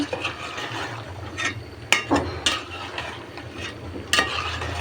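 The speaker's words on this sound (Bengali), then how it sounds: "এখন আমি এই কদুর মধ্যে শৈল মাছটিকে ছেড়ে দিব।" Snakehead fish cooking with bottle gourd in a pan, with a steady sizzle of frying under repeated scraping stirs and a few sharper clinks of a utensil against the pot.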